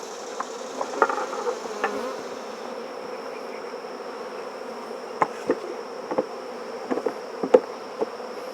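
Honey bees in a hive colony hum in a steady, close buzz, with scattered knocks and light taps from handling the boxes.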